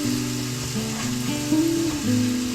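Steak sizzles steadily in a hot pan, a constant close frying hiss with a low tonal hum wavering underneath and no voices.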